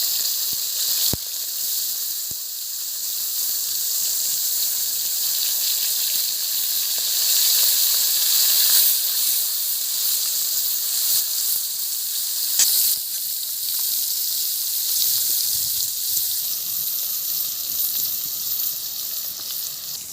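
Pieces of a large grass carp fry in hot mustard oil in a kadai, a loud, continuous close-up sizzle and hiss holding steady throughout with occasional small crackles and no voices.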